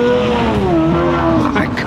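Corvette E-Ray launching hard down a drag strip, its engine roaring loud and close with rising pitch and a hint of tire squeal, the sustained drone filling the short burst.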